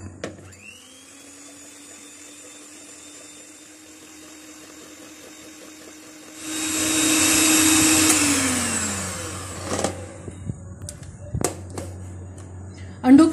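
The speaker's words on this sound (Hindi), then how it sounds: "अंडों की सफेदी को एक बड़े बॉल में डालते हैं और अब इनको बीट कर लेते हैं।" An electric beater whirs in a large bowl of egg whites, a steady motor hum that grows louder and rougher midway as the beaters work the whites, then stops, leaving scattered clatter and handling noises.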